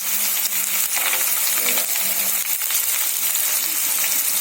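Onion, spring onion and cabbage fry over medium heat for Gobi Manchurian, giving a dense, loud, unbroken sizzle and crackle that stays steady throughout, close and alone with no voices.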